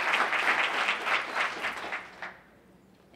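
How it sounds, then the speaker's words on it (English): Audience applause at a public hearing, a dense wash of many hands clapping that holds steady for about two seconds, then thins out and fades to near quiet. "I'm just going to ask you all to kindly refrain from applause."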